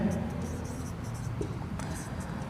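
A pen scratches across paper in steady strokes during a maths lesson on circle area, soft and close, with faint low room murmur underneath.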